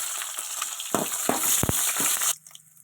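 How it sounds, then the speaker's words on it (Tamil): Mustard seeds, curry leaves and green chili sizzle and crackle in hot oil in a kadai for a village-style bitter gourd stir-fry. A steady close hiss carries a few sharp popping bursts, then it cuts off abruptly near the end. "தேவையான அளவு எண்ணெய் நல்லா காயட்டும் கடுகு கருகப்பில் பச்சை மிளகா"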